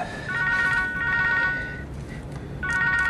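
A telephone rings indoors in repeated bursts of electronic trilling, two ring cycles separated by a short pause, fairly clear over a low room hum with no talking.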